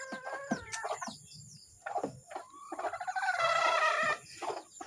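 Chickens cluck and squawk close by, a rooster-like call rising toward the end, with short pauses between bursts.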